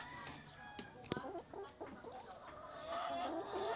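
Rhode Island laying hens cluck softly in a coop, giving scattered short calls and low murmurs at close range over faint background noise, while a person speaks briefly nearby.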